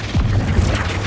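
A Flipendo spell strikes in Hogwarts Legacy with a short, heavy thump and a mechanical clatter that holds steady for about a second, with no voices.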